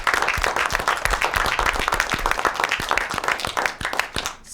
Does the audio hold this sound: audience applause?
yes